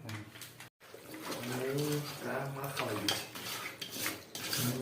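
Meat is stir-fried in a pot with spices for biryani, with metal scraping and clinking of a utensil against the pot under a person talking in Bengali nearby.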